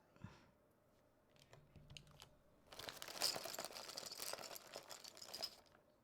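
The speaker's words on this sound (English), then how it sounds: "this is going to take forever to put all the keycaps on." Keycaps being pressed onto a mechanical keyboard with Gateron switches, a quiet run of small plastic clicks and clacks that grows busier and denser in the second half.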